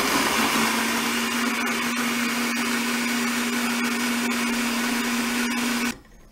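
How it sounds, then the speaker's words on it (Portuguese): A kitchen blender whirs steadily while blending tangerine pieces with half a glass of water, a close, loud continuous drone with a sustained hum that cuts off sharply at the end. "Coloquei as tangerinas no liquidificador com meio copo de água"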